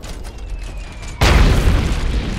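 A heavy artillery shell explodes in the video game Iron Harvest, a sudden loud boom about halfway through that leaves a dense, rumbling wash of debris and battle noise after a quieter stretch of distant combat.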